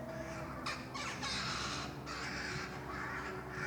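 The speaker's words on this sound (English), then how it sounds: "Are they rooks, or I think they're rooks, aren't they?" Rooks caw repeatedly in a hillside graveyard at Haworth, a cluster of harsh, overlapping calls from several birds that carry on over steady outdoor background noise, with no talk during the calls.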